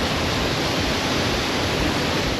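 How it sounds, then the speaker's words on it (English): La Fortuna Waterfall in Costa Rica roars steadily as water plunges down a sheer rock face into a pool, a loud, dense, unbroken rush with no voices. "a breathtaking cascade of liquid diamonds tumbling down a sheer rock face, its waters plunging into a crystal clear pool below"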